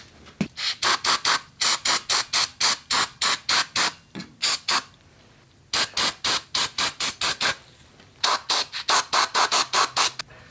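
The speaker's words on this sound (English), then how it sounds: "I'm gonna go ahead and clean this thing out with some brake cleaner." Brake cleaner sprays into a Subaru front brake caliper in rapid short bursts, a loud close hissing series in quick rhythmic groups, alone with no talk.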